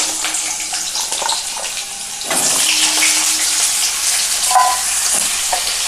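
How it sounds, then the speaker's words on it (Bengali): Washed, cut potatoes dropped into hot oil for a Bengali punka shak dish, a moderate sizzle that suddenly surges louder and hisses steadily, with a few utensil clinks. "তেল গরম হয়ে গিয়েছে, এবার দিয়ে দিচ্ছি আমি কেটে ধুয়ে রাখা আলু"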